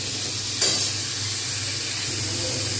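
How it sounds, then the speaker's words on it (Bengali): Potato pieces frying in a pan, with ground cumin to follow, give a steady close sizzle and hiss with a brief brighter burst of stirring, and no talk over it. "আমি এবারে দিয়ে রাখা আলুগুলো সব দিয়ে দেবো, যাতে কাঁচা গন্ধটা চলে যায় সেই রকম পরিমাণ ভাজবো"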